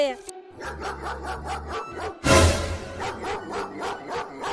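A dog barks repeatedly in short bursts while people talk nearby.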